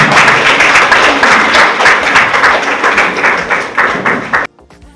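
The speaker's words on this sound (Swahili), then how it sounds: "Makofi jamani, Chamalendi." A crowd at a district health department certificate ceremony claps steadily for a dispensary, dense applause that fades near the end and stops abruptly.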